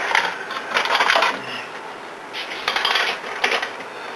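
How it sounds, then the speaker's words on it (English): A hand crank turns over an oiled gear housing with pinion gears, giving bursts of close mechanical rattling and grinding that come and go in rough cycles, with brief pauses between turns. "I like to crank it over"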